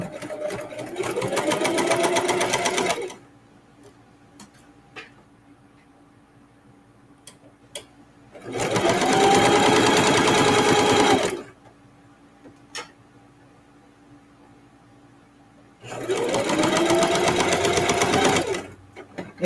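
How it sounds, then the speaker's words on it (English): A sewing machine stitches fabric strips in three loud, fast-whirring bursts of about three seconds each, separated by quiet gaps with faint ticks and clicks of handling. "And I'm just sewing whatever length of the fabric."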